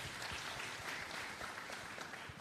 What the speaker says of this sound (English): Let's give Pete a round of applause.